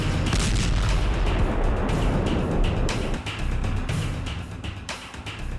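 Explosions from landmine and drone attacks in the Russia-Ukraine war roar loudly and continuously with heavy low rumble and crackling bursts, dipping slightly near the end, with no talking.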